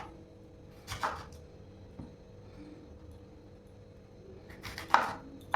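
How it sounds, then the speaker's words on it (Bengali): A knife cuts a capsicum lengthwise on a board, giving two distinct sharp chops a few seconds apart with faint taps between, over a quiet room. "এইভাবে পুরো ক্যাপসিকামটাকেই কেটে নেব"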